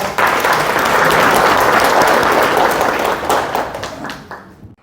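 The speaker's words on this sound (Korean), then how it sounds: "박수로 모시겠습니다" A forum audience gives a sustained, dense round of applause welcoming a former Busan mayor, loud and steady for several seconds before thinning out and fading at the end.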